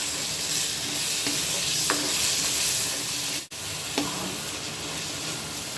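Chicken masala sizzles steadily in a hot pan while a spoon stirs it, with a few soft scraping taps and a brief dip in the hiss midway.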